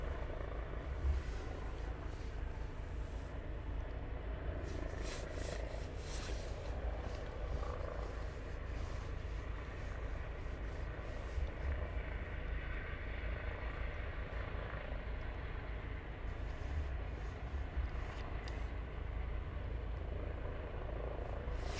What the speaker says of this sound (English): Gotta love the Merlin helicopters,